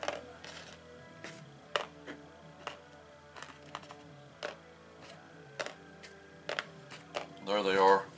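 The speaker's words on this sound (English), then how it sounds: "Just kind of get the screws laid out." Screws from a Stihl BG55 leaf blower are set down one by one on a hard surface, scattered small clicks and taps, quiet and close, with a brief louder rustle near the end.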